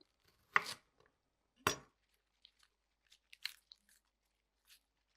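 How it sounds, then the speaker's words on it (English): A knife chops bok choy on a cutting board for a sweet potato curry, giving two firm, crunchy cuts followed by a few lighter, scattered taps. The sounds are close and clear against silence. "I'm going to cut some bok choy"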